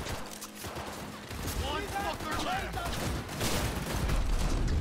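Bursts of gunfire and combat effects ring out in the video game Cyberpunk 2077, rapid and fairly loud, mixed with game sounds and a speaking voice.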